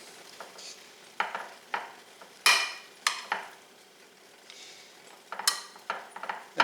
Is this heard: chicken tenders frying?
yes